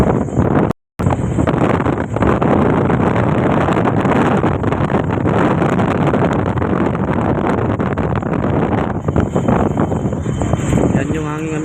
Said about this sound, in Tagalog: Grabe talaga ang lakas ng hangin ngayon mga kayo